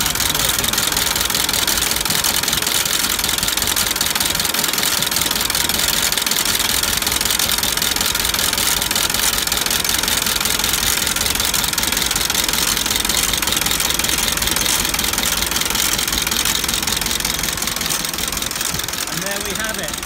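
A 1903 Daimler 22hp car engine idling steadily with a loud, continuous mechanical chug and knocking rhythm, close by and unbroken throughout.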